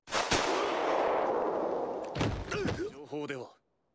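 A gunshot in an anime scene: a sharp loud blast at the start over a dense roaring background, followed by a second impact and a voice that cuts off abruptly.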